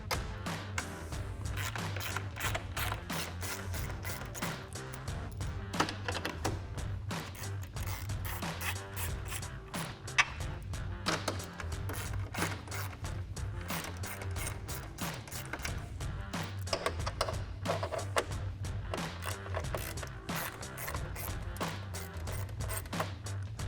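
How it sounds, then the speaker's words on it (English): Bolts are removed from the grille of a Ford F-150 pickup, heard as rapid, dense bursts of ratcheting clicks and taps that keep going for the whole stretch, close up and with no voice. "then we can remove the 4 bolts on the top"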